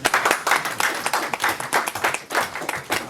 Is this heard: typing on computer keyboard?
no